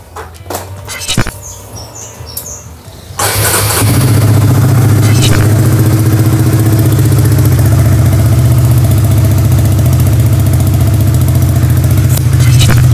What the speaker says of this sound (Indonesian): ini adalah suara idle atau suara standar waktu dipanasi ya.